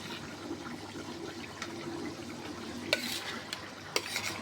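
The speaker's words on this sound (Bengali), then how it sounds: "তরকারির ঝোল ফুটে গেছে। এখন আমি মাছগুলি একে একে দিয়ে দেব।" A pot of oily curry broth with eggplant bubbles steadily as Satkhira tangra fish go in one by one, a soft continuous simmer broken by a few sharp clicks and light splashes.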